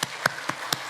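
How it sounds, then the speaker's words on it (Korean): Congregation in a church applauding, heard as four separate, evenly spaced sharp claps under a second, faint and without talk. "우리 박수 한번 하겠습니다."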